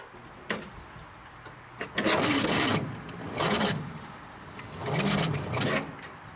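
A 1946 Dodge truck engine with a positive-ground system cranking over slowly on a nearly flat battery, three sluggish labored bursts of starter whirring separated by pauses, fairly close and without talk.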